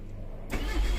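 Proton Wira engine starting after fuel pump repair, quiet hum giving way halfway through to a sudden loud, close rumble of the engine catching and running.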